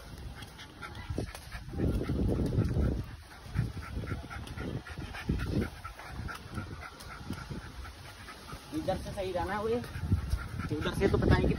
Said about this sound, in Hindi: तीन तीन चार कुत्ते लगे अब तक पीछे।